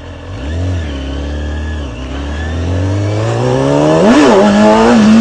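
Motorcycle revving hard with the clutch slipped to lift the front wheel into a wheelie: a loud, close engine rises, dips, then climbs steadily in pitch, with no talking.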